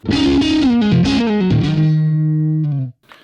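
A distorted electric guitar, Strat-like in tone, plays a short, bending lead phrase with a thick, throaty, vocal-like tone, ending on a sustained note that cuts off abruptly.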